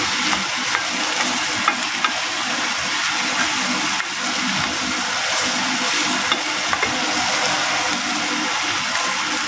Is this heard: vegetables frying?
yes